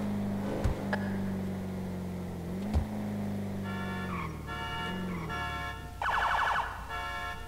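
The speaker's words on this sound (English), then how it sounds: "Yeah, I heard a car alarm going off and it sounded like it was above me." Car alarm blaring in Grand Theft Auto, a looping electronic siren that cycles through warbling and pulsing tone patterns, steady and loud with a couple of faint thumps early on.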